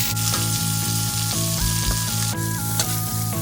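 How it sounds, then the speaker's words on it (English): Italian sausage and chorizo sizzle in a soup pot with a loud, steady frying hiss, while background music plays over it. "Add Italian sausage to the pot. Combine with chorizo"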